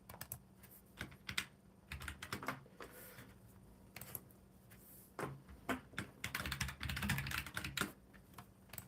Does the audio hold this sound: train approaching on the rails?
no